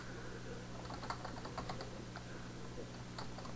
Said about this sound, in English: So I'm going to type net/user and the name of the user